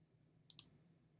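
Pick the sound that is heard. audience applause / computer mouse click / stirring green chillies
computer mouse click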